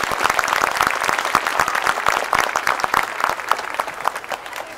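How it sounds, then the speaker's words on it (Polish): A street crowd at a Three Kings Day procession in Nowa Sól applauds the performers with lively, distinct claps close by, steady and fairly loud throughout. "Wielkie brawa do artystów"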